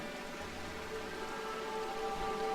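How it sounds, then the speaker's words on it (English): Faint, steady rain in the video game RimWorld, a soft even patter with a few tonal game sounds running underneath, no voices. "It looks like the rain's tapering off"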